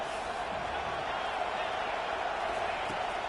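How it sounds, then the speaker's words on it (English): Football stadium crowd at a Michigan college game roaring steadily on a defensive third down, a loud continuous wash of cheering and noise with no breaks. "Decibels rising as the crowd gets behind this defense on third down."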